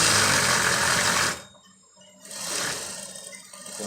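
A sewing machine stitches a princess dart blouse, its steady whirring motor running loud, pausing briefly in the middle, then resuming its continuous hum.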